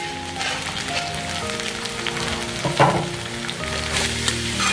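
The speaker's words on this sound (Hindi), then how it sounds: "इसे भी तेज आंच पे स्टर फ्राई होने देना है" Cabbage and capsicum stir-fry over high heat, giving a steady, close sizzle with crackling pops and a few louder stirring scrapes near the middle.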